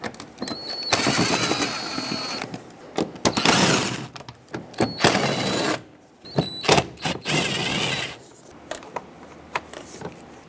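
Screws come out of the air box cover on a 2015-2020 Cadillac Escalade during an engine air filter change: close scraping, rubbing and clicking handling noises in uneven bursts with short pauses.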